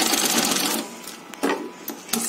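A sewing machine stitches pieces of a homemade face shield, a quick rapid run of clattering stitches that stops, followed by a few isolated mechanical clicks, close and fairly quiet.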